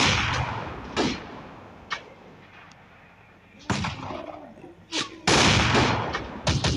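Sniper rifle shots in the video game Blazing Sniper ring out as several sharp, loud cracks at irregular intervals, with rumbling game action between them.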